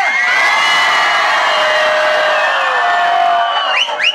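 Concert audience screaming together in one loud, sustained roar of high-pitched voices lasting several seconds, thinning into scattered shrieks and whoops at the end.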